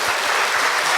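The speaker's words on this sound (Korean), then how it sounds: "박수로 환영해 주시면 감사하겠습니다." A church congregation at a Sunday worship service breaks into a brief burst of dense, loud applause welcoming new members.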